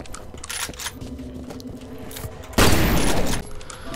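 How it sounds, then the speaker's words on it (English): Shotgun blasts in the shooter game F.E.A.R.: a loud, broad, sustained burst of firing noise lasting under a second stands out after a stretch of lower clatter and crackle. "shotgun's definitely the way to go on these guys"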